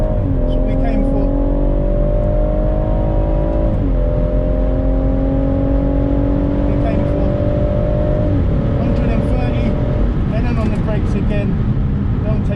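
A stock BMW M140i accelerates hard down the straight at Snetterton on a track day, its engine note climbing steadily and loudly, with two brief dips at gear changes, under faint occasional talk.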